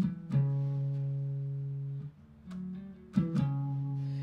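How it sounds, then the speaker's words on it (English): A few low bass guitar notes sound alone, with quick hammered and pulled notes between sustained tones, played softly and up close. "So that whole part's going to sound like this. You got a hammer on, pull off."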